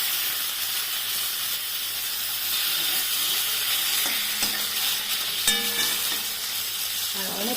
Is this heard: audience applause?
no